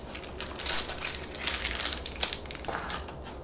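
Plastic accessory packaging for a bike rack kit is pulled apart by hand, giving a close, continuous crinkling and crunching with a few sharper crackles and no talking.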